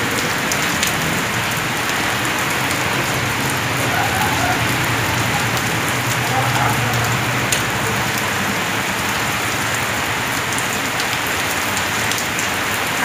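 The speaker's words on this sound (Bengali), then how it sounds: "বৃষ্টি নেমে গেল" Sudden heavy rain pours down after a sunny spell, a dense, loud, unbroken hiss of drops drumming on surfaces that holds steady throughout with no voices.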